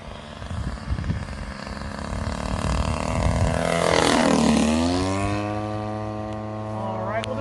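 A Great Planes 50cc Revolver RC airplane passes overhead on a low, slow approach, its gas engine note rising to a loud close pass and then falling in pitch as it pulls away, with a faint voice underneath.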